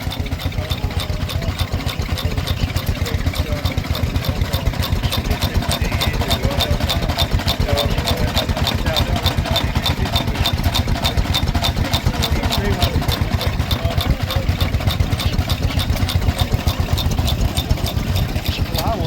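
A 1917 Lister petrol-paraffin stationary engine running at an outdoor show, a loud, steady, rapid thudding beat with mechanical clatter that continues evenly throughout, heard close up.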